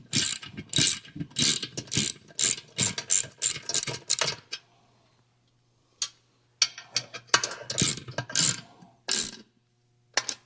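A ratchet clicks rapidly and loudly up close while tightening valve cover bolts in a shop, in several quick bursts separated by a quiet stretch.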